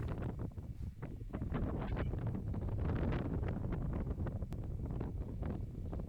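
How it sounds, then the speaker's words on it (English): Wind blows hard outdoors around a horse pasture on a blustery day, a constant loud rumbling roar of gusts against the microphone, with no voices. "With it being so windy today, I'm keeping a very close eye on the horses"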